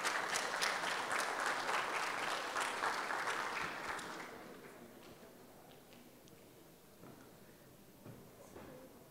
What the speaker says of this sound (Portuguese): Palmas para as duas.